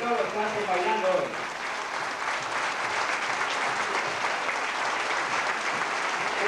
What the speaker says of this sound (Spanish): Fuerte aplauso para Antonio